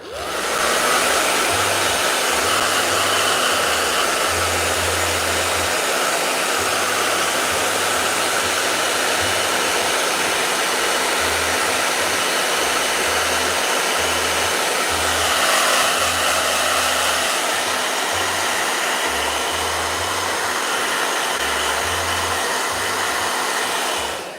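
A handheld blow dryer runs steadily and loudly close by, its constant whirring airflow roar holding for the whole stretch with slight shifts in pitch as it moves.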